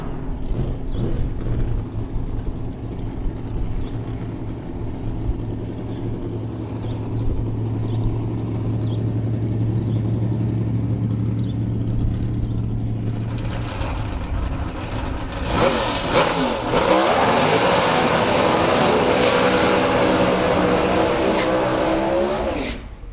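Drag racing cars at a competition eliminator event make a run: a steady engine drone with a low hum gives way to a loud, roaring burst of racing engines that fills the final seconds, heard at a distance.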